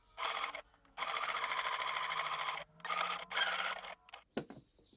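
A sewing machine stitches a dress seam with a one-centimeter seam allowance, running in steady bursts with short pauses between them. Close and fairly loud, with no talking.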